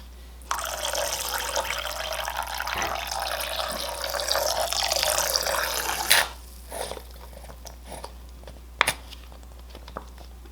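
Water runs steadily from a tap for several seconds, then shuts off, leaving a few drips and small clinks nearby.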